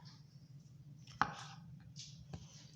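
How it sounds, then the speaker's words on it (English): A knife chopping a tomato on a cutting board, a single sharp chop followed by a couple of lighter cuts, close and quiet with faint background hum. "I'm going to chop up our tomato"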